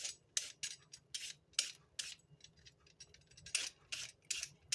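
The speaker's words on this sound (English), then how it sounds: "Now we're going to take these and scrape the outsides of them." Carrots have their outsides scraped by hand, giving quick, close, gritty rasping strokes in an uneven rhythm. Each stroke is separated by a short pause.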